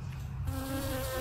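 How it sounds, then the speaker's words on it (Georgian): A bee buzzes close and steady, a continuous droning hum that swells slightly partway through and carries on alone without any voices. "ფუტკარი ვაიმე"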